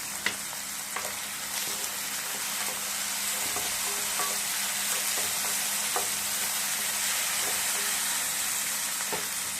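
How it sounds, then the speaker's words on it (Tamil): Tomatoes with curry leaves and mint leaves sautéing in a pan for rava kichadi: a continuous, even crackling sizzle with occasional small pops, close and unbroken by speech. "தக்காளி நல்லா வதங்கிடுச்சு இப்போது கொஞ்சம் கருவேப்பிலை ரெண்டு புதினா இலை போட்டுருக்கேன்"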